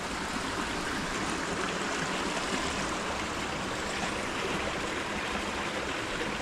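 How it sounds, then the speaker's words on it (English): The swollen River Wear near Durham rushes past in flood, a steady broadband roar of fast-flowing water that holds constant throughout with no talk. "another place where there's fast moving water coming down from up there, the top ridge"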